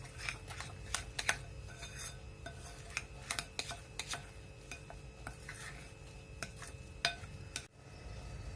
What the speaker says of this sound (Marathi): आपण हे जे पावडर तयार करून घेतलं होतं ते आपण यात घालून घेणार आहोत आणि छान याला मिक्स करून घ्यायचं आहे